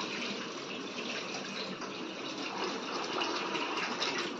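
Water gushes steadily over rice in a kitchen vessel to soak and rinse it, a continuous close, moderate splashing pour with no talk.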